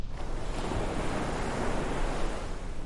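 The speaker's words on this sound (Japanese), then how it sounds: "海のような音がするな。" Sea-like wash of ocean waves, a continuous broad rushing roar with gentle swells and no clear breaks, steady and fairly loud throughout.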